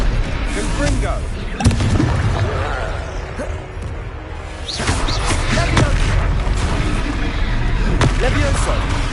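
Fiery Confringo spell blasts boom and crash in a Hogwarts Legacy duel, loud repeated impacts over constant battle noise, with voices talking throughout.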